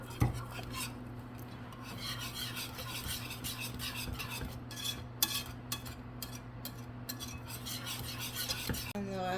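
Butterscotch pie filling with butter and vanilla being stirred in a pot, a steady scraping and rubbing with light clinks of the utensil against the pan over a constant low hum, with no talking.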